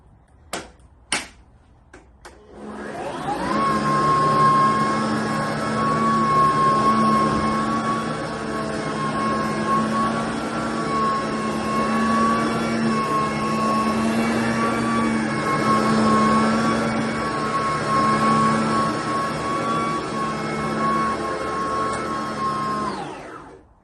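A Sebo SoftCase BP60 cordless vacuum cleaner gives a few clicks, then switches on and runs on the floor with a loud, steady whirring hum for about twenty seconds before shutting off.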